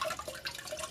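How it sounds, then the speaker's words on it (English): Homemade butter rinsed by hand under water, with soft splashing and dripping trickles in a quiet, close, brief burst. "washing the butter until the water runs clear."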